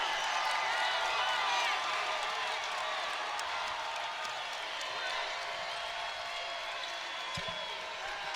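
A crowd in a women's college basketball arena, NC State at Florida State, keeps up a steady, loud roar and cheer throughout, with a commentator talking over it.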